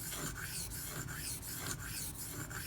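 A knife edge, a Ganzo FH51, is stroked over a 2500 grit silicon carbide stone on a guided sharpening system, giving quiet rhythmic raspy scrapes about every third of a second, close and steady with no talk.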